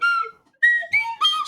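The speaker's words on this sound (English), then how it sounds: "slide whistle conjures wealth out of nowhere, Philip." Slide whistle played in a few rising and falling glides, loud and close, with short pauses between phrases and no talking.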